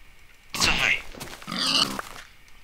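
Pigs grunting in the Minecraft (YogBox) video game, two loud, close grunt bursts about a second apart over faint background game ambience.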